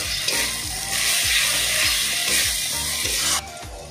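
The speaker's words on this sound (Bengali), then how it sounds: "তারপর এটাকে কষানোর জন্য ছেড়ে দেবে।" Spice masala of coriander powder, chilli powder and salt frying in a wok for jackfruit and prawn curry, a steady close sizzle with rhythmic scraping strokes of a spatula through the paste.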